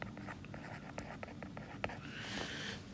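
Chalk or marker strokes on a lecture board, a steady run of short taps and scratches with one sharper knock, ending in a longer scraping stroke, close and clear in a quiet room.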